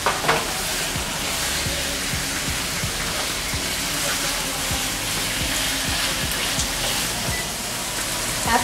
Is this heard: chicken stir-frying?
yes